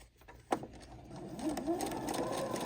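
A sewing machine stitches a fabric bib, whirring steadily and fairly quietly up close after a brief knock, with a faint coo-like tone in the background.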